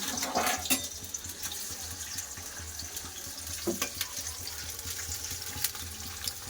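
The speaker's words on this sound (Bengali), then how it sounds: "তেল গরম হয়ে গেছে দিয়ে দেবো আলু" Steady hiss and crackle of potatoes frying in hot oil in a kadai, with a few sharper pops and clatters, close by and alone.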